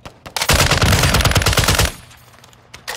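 Loud bursts of rapid automatic gunfire from Call of Duty: Modern Warfare II, a dense rattling volley lasting over a second, then quieter scattered shots and game ambience.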